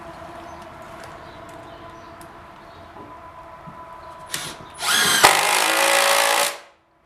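A power drill briefly drives a 1 5/8 inch screw into wood while a camper trailer is being built, one loud, steady whirring burst near the end that stops abruptly after a quieter stretch of room noise and faint tapping.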